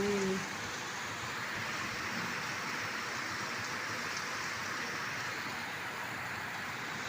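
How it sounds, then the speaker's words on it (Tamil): Heavy rain falling steadily during a storm in Chennai, a dense continuous hiss of drops with a constant low rumble underneath and no break. "தெரியுங்களா இங்கே எப்படி மழை பெய்யுது?"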